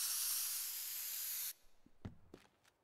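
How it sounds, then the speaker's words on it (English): Spray paint can hissing in the video game Teardown, a steady loud hiss lasting about a second and a half that cuts off abruptly, followed by a few faint clicks and knocks. "Spray paint."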